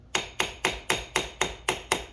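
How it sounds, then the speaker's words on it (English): A small hammer taps on a corroded terminal of a car battery in an Infiniti QX60, nine crisp, evenly spaced metallic strikes, close and fairly quiet with no talking. "I'm going to get me a little hammer"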